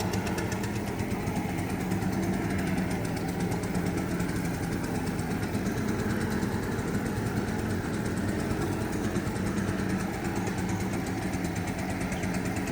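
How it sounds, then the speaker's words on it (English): A leaf blower runs steadily and loudly throughout while a heavy, uniform coat of sealer goes onto concrete pavers, its constant broadband drone unbroken and with no talk over it. "We're still using the blower"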